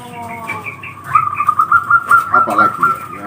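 A perkutut, or zebra dove, gives a run of soft rhythmic cooing notes, close and clear, with someone talking briefly at the start.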